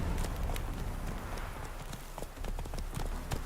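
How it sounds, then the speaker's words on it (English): Hooves of a summoned horse clip-clop in a steady galloping rhythm in The Witcher 3, close and continuous over a dense game soundscape. "Let's just summon our horse."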